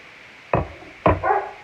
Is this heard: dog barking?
yes